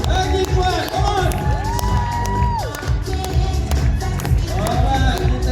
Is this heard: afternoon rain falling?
no